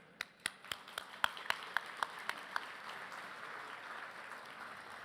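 Gala audience applause for honorees at a Japanese cultural center aloha event, beginning as a string of sharp, separate handclaps that quickly blur into a soft, distant, sustained patter.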